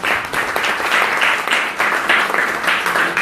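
An audience at a Sunday spiritual talk breaks into a short, dense round of applause, steady clapping filling the room for a few seconds.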